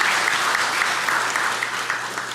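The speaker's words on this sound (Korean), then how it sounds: "우리 박수로 한번 환영하도록 하겠습니다" A church congregation at a Palm Sunday service applauds to welcome a visiting pastor, with steady, dense clapping from many hands throughout.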